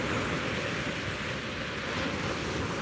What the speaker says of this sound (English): How about these waves? They are so loud and awesome.